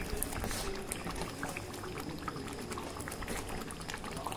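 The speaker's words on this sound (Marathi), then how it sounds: "हे पूर्ण भाजी आता छान उकळत आलेली आहे" Potato curry (bhaji) with lemon juice and mashed potato bubbling steadily in a pot, a continuous close, moderate simmering crackle and gurgle with no voices.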